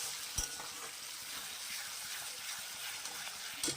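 Spice mix being stirred into onions in a pan while cooking chicken, a soft continuous sizzle with a couple of scraping utensil knocks against the pan, fairly quiet and steady, no talking.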